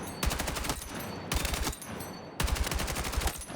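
Rapid bursts of automatic rifle fire from the shooter game Battlefield 6, three dense strings of shots with short gaps between them, loud and close.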